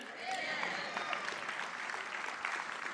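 Congregation applauding in a church during a sermon, moderate clapping with scattered voices and a few cheers mixed in, steady over three seconds.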